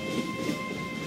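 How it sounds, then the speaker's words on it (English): A train in the Monochroma video game runs along the rails with a steady, dense rumble and a faint high whine, continuous and fairly loud, with no talk. "I hear a train! Oh crap!"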